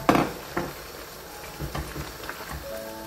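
Tomatoes and fenugreek leaves being fried in a pan for a meat curry, giving a soft crackling sizzle with a few clinks and scrapes of a spoon against the pan, no voices.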